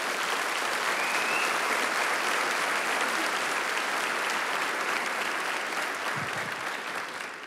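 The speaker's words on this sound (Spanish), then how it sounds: "Den un aplauso fuerte al Señor." Church congregation applauding loudly and steadily, a dense continuous clatter of many hands that holds strong throughout and tapers slightly at the end, with no talking.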